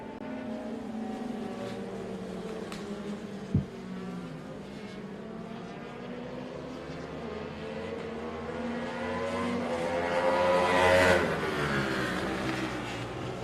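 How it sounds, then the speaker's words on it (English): Race motorcycle at an AHRMA national road race passing down the front straightaway, its engine note building from a distant drone to a louder whining pass and fading slightly, heard alone. "Bike sounded mighty healthy down that front straightaway"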